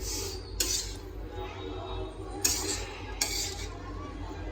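Homemade poha stirred in a pan with a metal spoon, producing a few sharp clinks of metal against the pan over a low background murmur.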